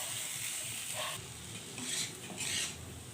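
Potato curry with tomatoes being stirred in a pan, soft scraping strokes of a spoon against the pan over a faint continuous sizzle, close and fairly quiet, with no talk.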